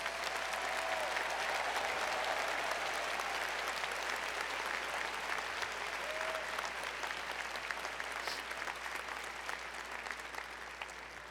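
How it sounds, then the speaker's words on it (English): A commencement audience applauds doctoral degree recipients in a sustained, dense wash of clapping that holds steady throughout, with a few faint tones mixed in near the start. "Please join the Dean in a round of applause for all our doctoral degree recipients."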